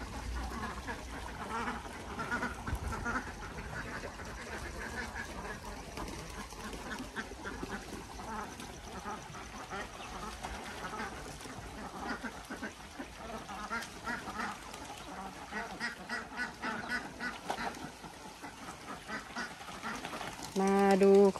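A flock of Khaki Campbell laying ducks quacks continuously in a pen built from an old pig enclosure, with many overlapping calls near and far and someone talking over them.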